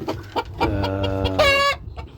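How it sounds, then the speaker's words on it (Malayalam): A seven-colour rooster clucks several times in short bursts, then lets out a louder drawn-out call before going back to soft clucks, close by. "സെവൻ കളർ പൂവൻ കോഴിയാണിത്"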